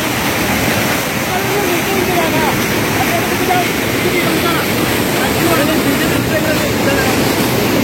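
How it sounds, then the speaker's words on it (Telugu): A waterfall roars in a loud, unbroken rush of falling water close by, with voices faintly present beneath the torrent. "ఇప్పుడు నీళ్ళు పడేవి బాగున్నాయి"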